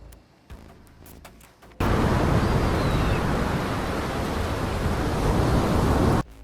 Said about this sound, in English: Millions of cubic meters of water just kept pouring out.